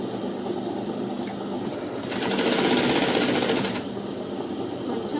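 A sewing machine runs steadily while stitching a blouse lining with a long stitch, its motor hum rising and speeding up for a stretch mid-run before settling back to a slower pace, close and alone with no talk.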